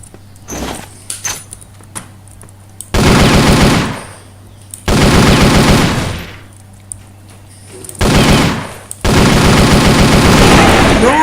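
Bursts of rapid automatic gunfire from the online shooter CrossFire, three loud sustained volleys separated by brief pauses, with quieter clicks and footsteps before the first burst.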